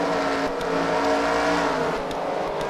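A race car runs on track at the Freedom Factory during a CWRL fight night, its engine a loud, continuous near drone with a steady pitch and no voices.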